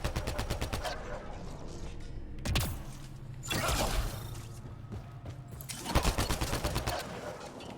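Sniper rifle gunfire in the video game Mass Effect: Andromeda, a few sharp, fairly distant shots with rapid firing at the start and swooshing effects amid steady game sound, with faint talk.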